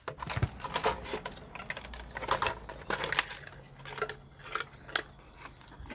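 Screws being backed out of a Growatt solar grid inverter during scrapping, a steady run of small metallic clicks and rattles with irregular taps, close and fairly quiet, with no talking.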